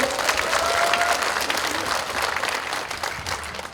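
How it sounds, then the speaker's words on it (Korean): An audience at a lawmaker's legislative report meeting in Yeongju applauds steadily and fairly loudly throughout, a dense crackle of many hands with no clear break. "오신 여러분들께 모두 박수 한번 크게 한번 주십시오"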